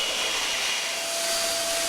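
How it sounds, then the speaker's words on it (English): A vacuum cleaner removes sanding dust from the epoxy-laminated deck of a DIY kayak, a loud, steady whooshing roar with a faint high whine running unbroken and alone. "before I vacuum off the dust"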